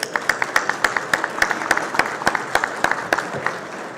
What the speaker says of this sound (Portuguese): Gostaria de pedir uma salva de palmas para a deputada Célia, a deputada estadual Célia Leão